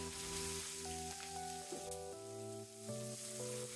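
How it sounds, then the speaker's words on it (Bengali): About one and a half cups of chopped onions fry in oil left from frying fish, giving a constant faint sizzle beneath steady musical tones. "পেঁয়াজগুলোকে আমি হালকা বাদামি করে ভেজে নেব"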